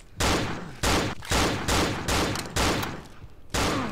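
Gunfire in the horror video game Cry of Fear: seven evenly spaced, loud booming shots ring out close by, each followed by a brief decay.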